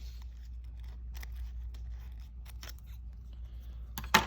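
Children in a first-grade classroom cut paper with scissors, producing faint, scattered snips and crisp paper crunches at irregular intervals over a quiet room hum, with one sharper snip near the end.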